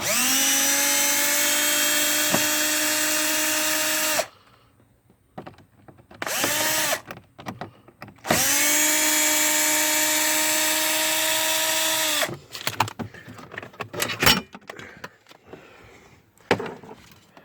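A power drill backs screws out of a 2009 Jeep Wrangler, two long steady whirring runs with a brief burst between them, loud and close, followed by clicks and handling clatter.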